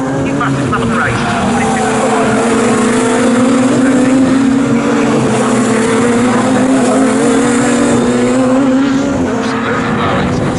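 A Radical SR1 race car laps the Snetterton circuit during a cup championship race, its engine droning loud and sustained with a steady high pitch, while a commentator talks over it.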